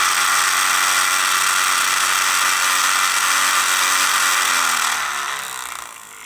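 The electric motor and gears of a Fisher-Price baby swing that grinds on startup run with a loud, steady buzzing whir, then wind down and fade near the end.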